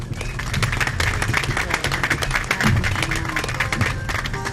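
An audience at a ceremony in the Democratic Republic of the Congo honouring laureates claps steadily, with dense sustained applause filling a large room at even volume throughout.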